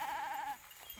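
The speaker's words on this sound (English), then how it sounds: "So these are our sheep. They're a Katahdin Dorper mix." A single Katahdin Dorper cross sheep on a small grazing farm gives one wavering bleat, about half a second long, close and clear, with light outdoor background noise after it.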